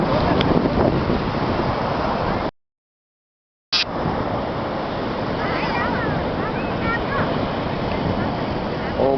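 Sea waves washing onto the shore at Somnath, Gujarat, make a steady broadband roar with wind rumble on the microphone, interrupted by a short dropout, while people talk faintly in the background.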